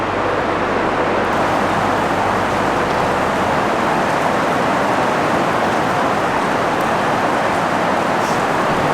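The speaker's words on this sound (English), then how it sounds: "that's the rain on the roof." Steady, dense rain drums on a roof, a loud, even hiss that carries on without a break and with no voices.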